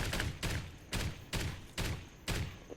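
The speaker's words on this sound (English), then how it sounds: "We're gonna empty this thing out until it has literally one shot." A video game turret firing repeatedly, heavy booming shots in a steady rhythm of about six evenly spaced blasts, each with a short rumbling tail, loud and close with no talking.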